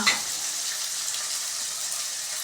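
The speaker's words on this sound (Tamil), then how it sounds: "இந்த வெங்காயமும் தக்காளியும் நல்லா வதங்கணும்." Chopped onions and tomatoes sizzle steadily in a hot pan for a brinjal thokku kulambu, with a brief clatter at the start and then an even, close frying hiss throughout, no voices.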